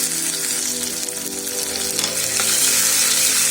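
Chopped onion and dried red chilies fry in hot oil in a pan for a Tamil banana stem dal kootu, giving a steady loud sizzle and crackle with faint stirring and no voices.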